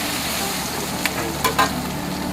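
Pad thai noodles stir-fried in a wok at a roadside noodle stall, a steady close sizzle of frying with a few sharp scrapes and clanks of the spatula against the pan, no voices.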